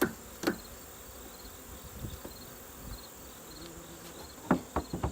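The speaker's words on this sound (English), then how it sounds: "Has a lot of bees in it." Steady buzzing of many honey bees close by at a hive during fall mite treatment, with a few faint knocks and taps over the continuous hum.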